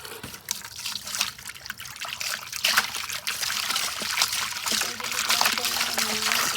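Water trickles and splashes from a hose or tap onto plants and grass in a garden, a close, uneven dribbling with brief voice sounds in places.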